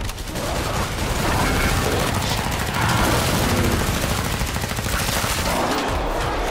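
Sustained gunfire in Killing Floor 2 on the Bobble Head Beach map, a loud dense barrage of rapid automatic shots and overlapping blasts filling the whole stretch, with game noise underneath.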